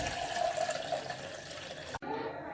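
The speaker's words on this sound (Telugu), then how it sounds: "ఈ విధంగా కడుక్కున్న తర్వాత వాటర్ తీసేసుకుందాం." Rinse water drained off a bowl of washed little millet in a kitchen, a steady pouring, splashing stream that stops sharply near the end before a softer trickle resumes.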